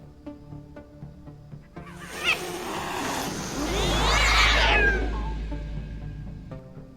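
Feral cats in a cyberpunk ghost-story video game let out long, wailing meows and caterwauls, rising to a loud drawn-out yowl over a low rumbling backdrop and music.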